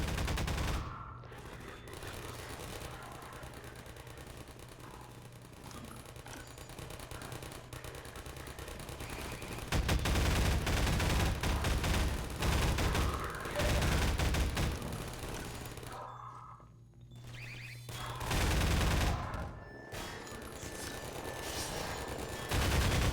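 Automated turrets in Half-Life 2 fire long, dense bursts of rapid gunfire, loud and nearly continuous for the whole stretch with brief gaps, mixed with low rumbling game noise and no talk.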